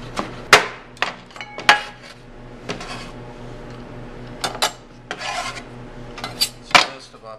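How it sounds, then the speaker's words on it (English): A knife chops basil on a cutting board for chiffonade: a series of sharp, irregular taps and scrapes, close and clear, with no talking. "we've plucked our basil. And we're going to chiffonade it"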